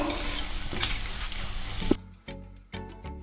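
Garlic frying in a pan for a Tamil vatha kuzhambu, a dense steady sizzle with stirring clatter that breaks off abruptly, followed by a few separate metallic scrapes and clinks of a utensil against the pan.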